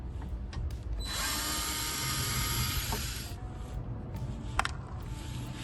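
A cordless power driver unscrews bumper screws on a 2025 VW Crafter van, a close whirring burst of about two seconds followed by lighter clicks and handling noises.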